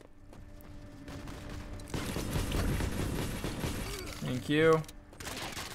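Turret gunfire erupts in the mobile shooter Modern Combat 5 as a dense burst of rapid shots and impacts in mid-match, followed by a short spoken voice.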